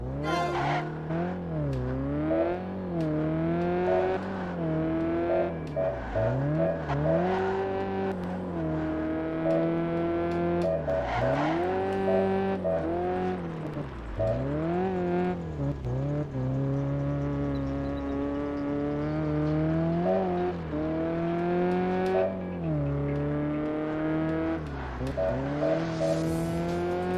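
Race car engines in Ford Racing 3 rev and whine steadily, pitch rising and dropping through repeated gear shifts, loud and close throughout with occasional squeals and no voices.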